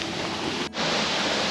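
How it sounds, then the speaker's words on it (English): Water from a dam rushes into a small stream at a campground, making a dense, steady roar close by with no other sounds. "this is the area of the little stream coming right off the dam. So it's got pretty good flow"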